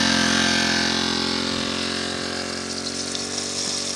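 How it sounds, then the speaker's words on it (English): Small 1-horsepower water pump engine idling as it warms up beside a riverside gold mine wash plant, a steady droning hum with a faint rushing water layer, close and even. "He's just gonna feather it there, let that pump warm up."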